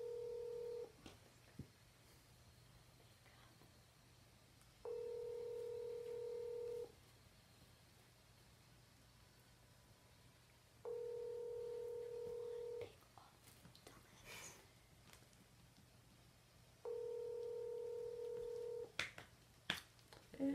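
A phone sounds a steady two-tone ring pattern while a call goes unanswered, four evenly spaced tone bursts of about two seconds each, fairly faint over a low hum, with brief clicks and soft voices between.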